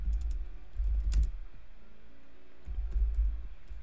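Keys clatter on a computer keyboard as text is typed for a bridal shower gift design, short bursts of clicks separated by a pause, close and moderately loud over a low hum, with no talking.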